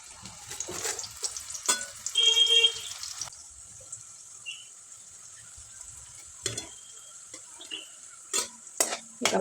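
Chapati pieces frying in a pan, soft sizzling under sharp scraping and stirring clatters of a utensil against the pan, irregular bursts close by, no voices.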